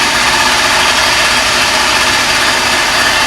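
Honda Dio 27 scooter engine running under throttle, a loud, close, continuous buzzing drone holding steady throughout with no pauses.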